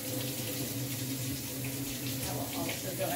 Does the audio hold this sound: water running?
yes